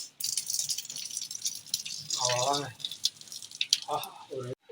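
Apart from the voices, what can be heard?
draining hot water from boiled papaya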